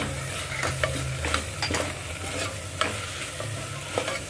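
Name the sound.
spices being mixed and cooked in a pan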